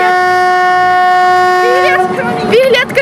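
Horn of an old tourist train near Ella, Sri Lanka, sounding one long, loud sustained blast, then breaking off into crowd noise and voices.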